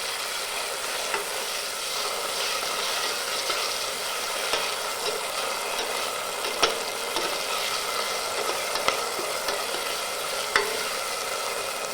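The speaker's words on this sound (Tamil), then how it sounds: "இந்த பச்சை வாசனை போகிற வரைக்கும் நல்லா வதக்கிக்கலாங்க" Masala paste sautés in a pan for a curry, a steady moderate sizzle with occasional soft stirring scrapes and clicks, no voices over it.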